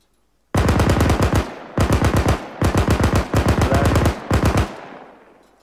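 Close automatic gunfire in the military shooter game Arma 3 rings out in five loud, rapid bursts separated by short pauses, the last trailing off into a fading echo.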